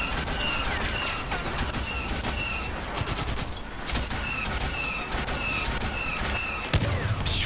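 Rapid blaster fire crackles in a Star Wars Battlefront Walker Assault match, with dense bursts of sharp shots, some close and some farther off, overlapping in a continuous battlefield din.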